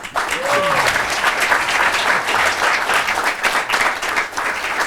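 Audience at a chamber of commerce luncheon breaks into steady, loud applause with scattered cheers, the clapping dense and continuous throughout.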